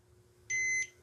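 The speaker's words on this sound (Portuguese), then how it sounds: "Agora, desligando o rádio e clicando em bip" The Sihuadon R-108 radio gives a single short, clean electronic key beep, close and alone against a faint background hum.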